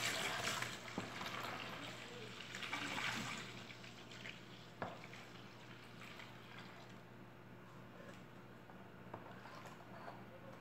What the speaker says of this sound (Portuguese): vou colocar 3 litros de água em temperatura ambiente